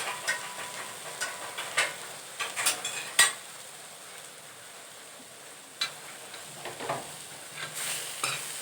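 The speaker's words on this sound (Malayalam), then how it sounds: "തക്കാളി ഇനി ഇതിൽ കിടന്നങ്ങ് നല്ലപോലെ ഒന്ന് വഴറ്റിയെടുക്കണം." Tomatoes sautéing in an oil-filled pan while being cooked down to a paste for South Indian rasam, giving a soft steady sizzle with occasional sharp scrapes and clinks of a spoon stirring against the pan.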